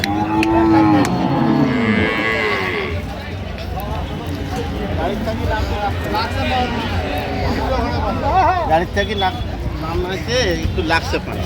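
Dairy cows and calves lowing at a busy rural cattle market in Dinajpur, several drawn-out moos rising over constant crowd babble and nearby talk.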